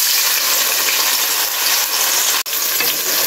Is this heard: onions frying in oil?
yes